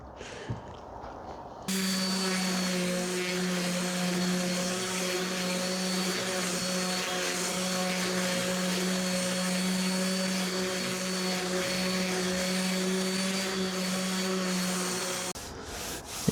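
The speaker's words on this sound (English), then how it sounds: "it's time to sand it perfectly with the sander" A power sander runs steadily on a reclaimed wood bench, starting abruptly after a short quiet stretch, then holding a loud, close, even whirring hum with sanding friction until cutting off near the end.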